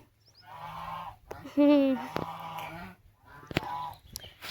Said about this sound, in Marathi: इथला एक पक्षी आहे, तो असा हसतो लिटरली.